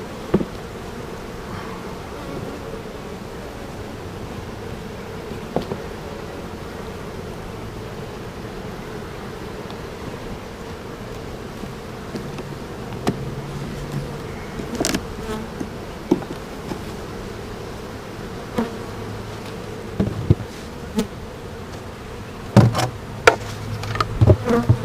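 Honey bees buzz steadily and close during a spring beehive inspection at a hive storing nectar with many drones, a dense continuous drone broken by occasional sharp knocks and taps from the hive boxes.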